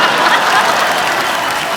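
A studio audience at a Hindi comedy talk show breaks into loud, sustained applause, with a dense wash of clapping close and steady for the whole moment.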